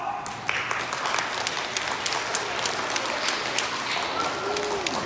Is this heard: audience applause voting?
yes